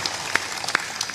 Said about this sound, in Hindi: जोर से ताली बजाया करो, बजा के दिखाओ